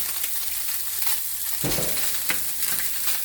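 Salmon fillet searing skin side down in a hot pan, a steady close sizzle and crackle with a brief louder burst of spitting oil partway through, no voices.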